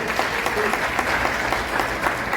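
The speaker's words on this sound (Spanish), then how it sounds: "Súper bien, un aplauso también." A group applauds during a talk about water use and La Tigra National Park near Tegucigalpa, a short burst of steady, fairly dense clapping at moderate volume.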